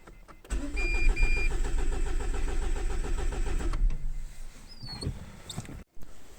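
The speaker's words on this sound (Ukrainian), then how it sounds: "Але машина пробує заводитись." A Renault Megane 2 engine cranks repeatedly with a rhythmic starter whir for a few seconds, then stops; faint electronic chirps follow. The car has an internal fault and will not start.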